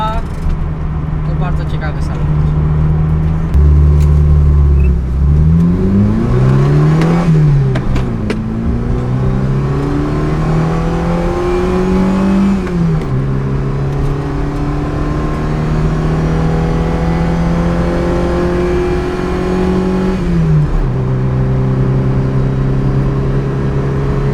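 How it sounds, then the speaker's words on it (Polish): A 600 kg Opel Corsa A's engine revs loudly and repeatedly, pitch climbing and dropping through the gears, with a person talking over the noise. "nie słychać, bo to auto jest głośne"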